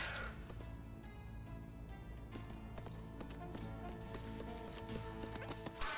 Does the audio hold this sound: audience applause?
no